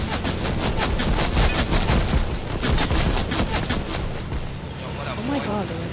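Rapid bursts of gunfire crackle through a Fortnite match, loud and dense with overlapping shots and booms, while players talk over the shooting.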